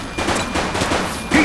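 Gunfire rings out in a police shootout in the video game The Precinct, a short burst of shots crackling under steady background noise, ending with a louder sharp report.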